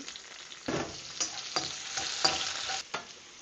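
Chopped onion and garlic hit a pan with very little oil and frying spinach, giving soft bursts of sizzle and a few stirring scrapes, quiet and close with no talking.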